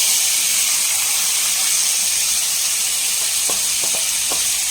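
Cut pineapple cooking in melted ghee in a non-stick pan for kesari: a steady, fairly loud bright sizzling hiss throughout, with a few faint clicks near the end and no talking.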